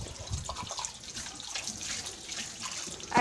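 Kitchen sink tap running while dishes are washed, a faint steady splash and trickle of water with small clinks throughout, fairly quiet and without speech.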